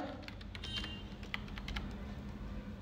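A password is typed on a computer keyboard in a run of quick, light key clicks at an uneven rhythm, close and fairly soft over a low steady background hum.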